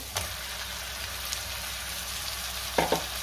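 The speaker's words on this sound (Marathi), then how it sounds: "कोळंबी मी 2 मिनिटं चांगली परतून घेणार आहे" Marinated prawns sauté in a spice masala, a steady sizzle with a few scraping stir clicks near the start and end, close and alone without talk.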